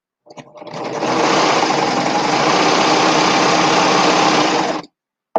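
A serger overlocker sews and trims a fabric seam in one loud, continuous, close mechanical whir of rapid stitching that lasts about four and a half seconds. A soft click comes before and after, and no voices are heard.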